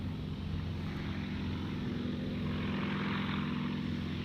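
A fixed-wing airliner takes off from Gold Coast Airport, its engines giving a steady, loud, broad roar that holds throughout with no voices over it.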